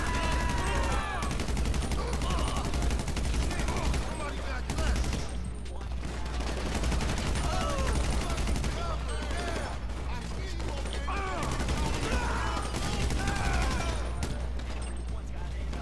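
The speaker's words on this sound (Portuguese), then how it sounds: "O cara levou uns tirambaços ali e morreu." Rapid bursts of GTA V Online gunfire crackle almost continuously, with occasional heavier blasts over a constant low rumble and a voice talking throughout.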